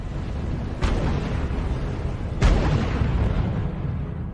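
Artillery and gunfire in the wartime strategy game R.U.S.E., with two sharp booms standing out over a steady battlefield rumble, heard without speech.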